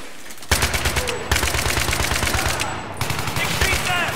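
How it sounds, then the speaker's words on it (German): Rapid automatic gunfire in Battlefield 3 rattles in loud, close bursts, steady rhythmic shots continuing through with brief pauses and renewed volleys. "Ich schieße!"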